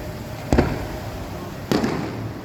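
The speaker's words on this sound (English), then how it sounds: "The fireworks are going off." Two sharp firework bursts explode over the Malecon waterfront in Puerto Vallarta, Mexico, spaced about a second apart, each booming loudly against a steady crowd and street hum.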